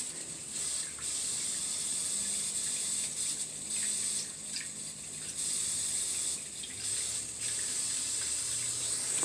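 A wringer washer filling with water from a hose, a steady rushing gush that pauses briefly several times, fairly close and alone.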